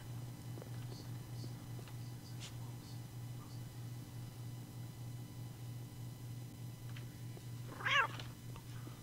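A cat meows once, short and fairly clear, inside the video game Postal 2, over a low steady hum and faint game background.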